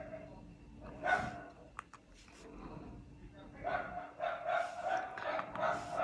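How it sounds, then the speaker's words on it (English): Several dogs bark in repeated bursts, sharp barks and yips rising over a quiet indoor background, with a faint voice at times. "I don't know what is going on with these dogs. They're barking bad."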